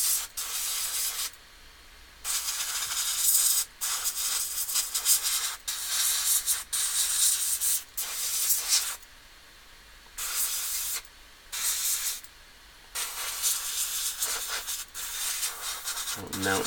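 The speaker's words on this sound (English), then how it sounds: "Bloody airbrush." Airbrush spraying paint onto a miniature model, steady hissing bursts repeated in an on-off rhythm of a second or two each, close and fairly loud with quiet gaps between.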